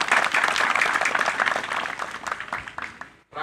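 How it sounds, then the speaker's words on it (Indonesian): Audience applause at a closing ceremony for a search-and-rescue training course in Yogyakarta: dense, steady clapping from many hands that thins out and stops near the end. "Tepuk tangan."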